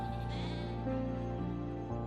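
Sheep bleat on open, rocky moorland in the British countryside, one long wavering cry running steadily throughout, close and loud with no voices.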